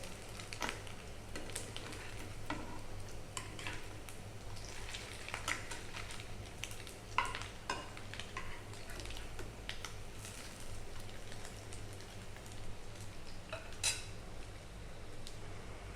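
Fish roe fritters frying in oil in a pan, a faint steady sizzle with occasional soft clinks of a utensil, alone without talk.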